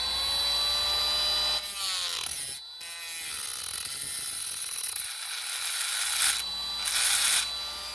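A battery-powered rotary tool grinds at low speed on a BMW E46 turbo intake part, a steady high whine running nearly throughout with a short stop partway and a louder burst near the end.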